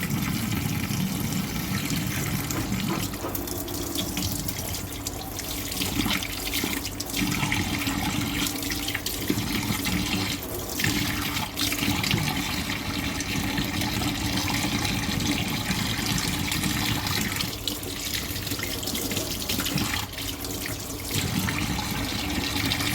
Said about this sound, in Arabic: شطفه تحت الحنفيه